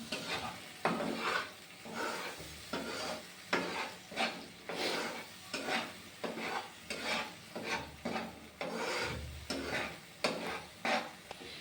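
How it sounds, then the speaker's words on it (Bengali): Fish frying lightly in a pan, a soft sizzle under rhythmic scraping strokes of a spatula turning the pieces, close and steady with no talk. "ভালোভাবে একটু হালকা হালকা ভেজে নিব।"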